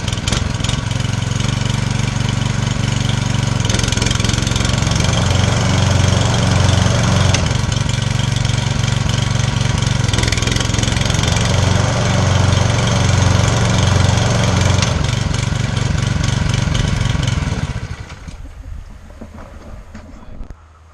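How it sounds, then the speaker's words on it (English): Hayter lawn mower engine running steadily and loud for most of the stretch, a dense mid-pitched drone that cuts off sharply near the end, leaving only a faint quieter hum. "And I'll demonstrate the engine"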